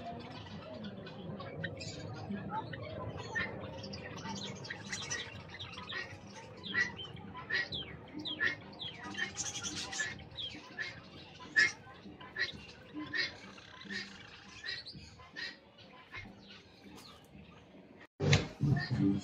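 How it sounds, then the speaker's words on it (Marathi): Java finches, white and black-grey, chirp with light, scattered tweets in an aviary, fairly faint, while voices talk in the background. "इथे जावा फिंच, हा तो एक बर्डचं नाव आहे. काय छान दिसतात बघ ना."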